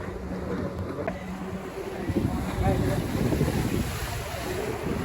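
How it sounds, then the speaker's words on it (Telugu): A jet ski ride at Baga Beach in Goa: steady rushing water and wind buffeting the microphone, with a low engine-like rumble throughout and no clear voices. "డ్రైవింగ్ చేస్తున్నాను, మోటార్ సైకిల్ అదేంటి జెట్స్కి."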